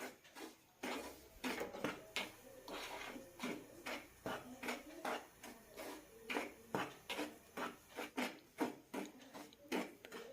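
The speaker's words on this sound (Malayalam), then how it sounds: "ഇനി ഒന്നുകൂടി നന്നായി വറുത്തെടുക്കാം." Semolina is roasted in a pan for besan laddu, with a spoon scraping and stirring in a quiet, steady rhythm of short strokes roughly twice a second, clinking faintly against the metal.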